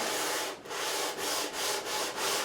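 Coarse 80 grit sandpaper rasps over the frets of a Gibson SG Standard during a refret, four or five loud, close back-and-forth strokes in an even rhythm, with no voices.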